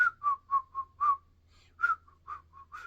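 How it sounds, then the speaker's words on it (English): A woman whistles a short tune: a run of about ten separate piping notes, close and fairly loud, with brief gaps and no talk. "I can sort of whistle,"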